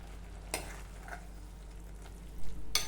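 A pot of Onam curry bubbles and sizzles quietly, with a couple of brief stirring scrapes against the pan.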